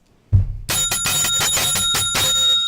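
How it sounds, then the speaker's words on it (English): Someone rings a bell by hand after a soft thump, giving a loud close run of rapid metallic dings that keeps going for about two seconds. "See, I just rang the bell on myself."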